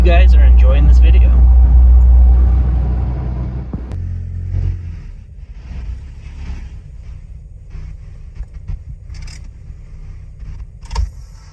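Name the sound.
Acura RSX Type-S driving with Skunk2 Ultra Street intake manifold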